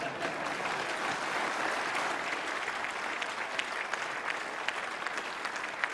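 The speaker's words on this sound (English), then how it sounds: "That always gets the biggest round of applause." A conference audience at a UKIP spring gathering in Llandudno breaks into steady, dense applause that holds loud and continuous throughout, with no speech over it.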